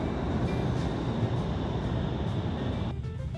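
Train pulling into a German railway station, a steady loud rumble of wheels and carriages that runs throughout and eases slightly near the end.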